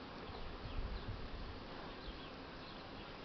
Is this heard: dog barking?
no